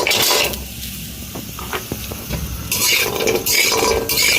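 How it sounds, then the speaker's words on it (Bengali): Lentil bori dumplings fry in a pan with a steady, close sizzle, broken by soft stirring scrapes and brief bursts of brighter hiss. "এবার বড়িগুলো ভেজে নেব।"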